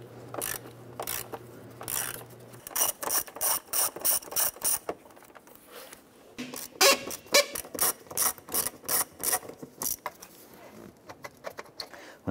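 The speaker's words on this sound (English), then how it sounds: "we're using an 8mm socket to remove the screws holding the air filter lid onto the air box" A ratchet fitted with an 8mm socket clicks in quick, steady bursts while backing out the air box lid screws on a 2009-2015 Honda Pilot, the close, loud pawl chatter pausing briefly between strokes.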